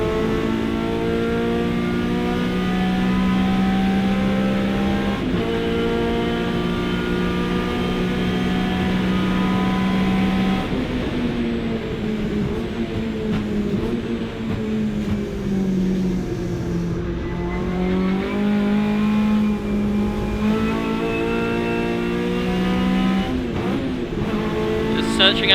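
A hot hatch race car's engine, driven in 750 Motor Club Hot Hatch qualifying at Silverstone in 2019, holds a loud, steady drone held in a higher gear, with pitch rising and dipping slightly as a driver talks over it.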